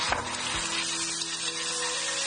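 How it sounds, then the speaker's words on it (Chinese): Beaten eggs sizzle steadily as they fry in hot oil in a wok, a continuous close crackling hiss with a light scrape of stirring near the start. "锅里油热后把鸡蛋液倒进去炒一下"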